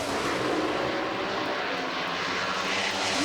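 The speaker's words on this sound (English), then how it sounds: "Listen to those engines come up. Away they go." Loud, dense roar of drag racing engines, a wedge motor and a small block Chevrolet, revving hard together at the US Nationals in Indianapolis, a continuous close rumble with no talk.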